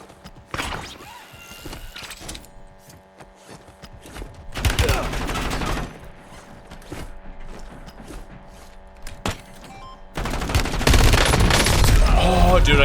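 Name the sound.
gunfire in the video game Warzone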